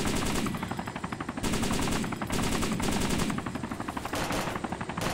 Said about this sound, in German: die wollen uns beschießen